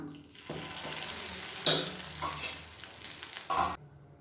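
Batter for tea-time snacks sizzles steadily in a hot pan, joined by several louder bursts of stirring and scraping against the pan.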